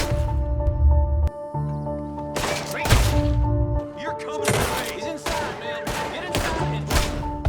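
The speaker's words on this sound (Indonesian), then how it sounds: "karakter Sheriff Freeman ini menjadi salah satu karakter terkuat di RDR 2 karena dengan satu tembakannya aja mampu membuat kita tewas on the spot" Gunshots in Red Dead Redemption 2, a handful of sharp, loud blasts spaced irregularly over droning game music, with a brief quieter gap between them.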